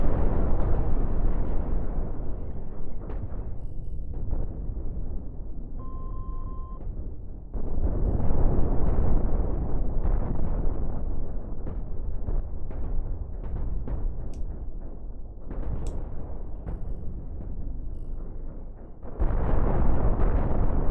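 Ship parts blowing apart in the space combat game Cosmoteer, a continuous roar of loud overlapping explosions and bursts that swells and drops in waves across the fight, with no talking.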